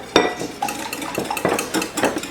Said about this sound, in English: So go ahead and whisk that really good.